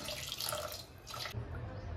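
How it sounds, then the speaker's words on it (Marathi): Water pours from a tap over soaked sago for potato chakli, a steady close splashing rush that briefly thins toward the end. "त्यात आता मी त्यात थोडं अर्धा इंच पाणी वरती येईल एवढं पाणी टाकणार आहे"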